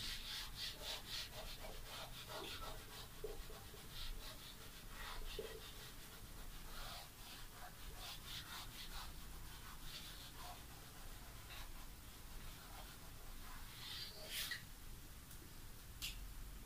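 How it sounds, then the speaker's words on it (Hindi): Writing is rubbed off a board with a steady scrubbing and rubbing sound, repeated strokes sounding as soft swishes over a constant faint background hiss, with no talking. "इसको मैं रब कर देती हूँ, आप नोट कर लीजिएगा।"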